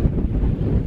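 Strong wind buffets the microphone on the Cribyn summit in the Brecon Beacons, a loud, continuous low rumble with no voices.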